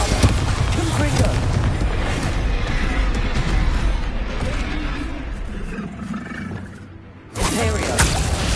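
Hogwarts Legacy explosion spells, Bombarda and Confringo, going off in heavy booming bursts with rumbling low-end roars, loud and sustained, dropping briefly near the end before another blast hits.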